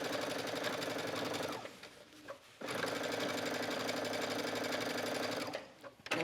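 A sewing machine stitching a skirt waistband with lace, a loud continuous mechanical whir running steadily, pausing briefly near two seconds, then resuming before stopping at the end.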